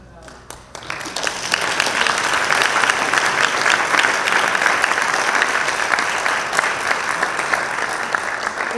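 Sustained applause from a large audience, a dense wash of clapping that swells after the first second and holds steady throughout.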